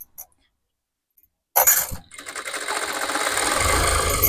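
A sewing machine stitching tucks on a ready-made dress starts after a quiet pause, running in a fast close mechanical whir that builds steadily to the end.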